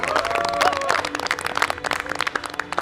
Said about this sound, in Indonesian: Tepuk tangan untuk Pak Dubes.